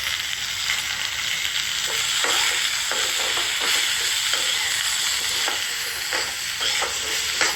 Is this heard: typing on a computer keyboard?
no